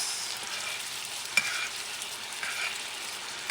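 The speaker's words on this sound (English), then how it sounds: "Start basting the steak as it soaks up all the sweet, salty, and garlicky goodness." Chuck eye steak basted in a pan with a sweet, salty garlic glaze, giving a steady close sizzle and frying hiss with a brief clink of a spoon partway through, no talking.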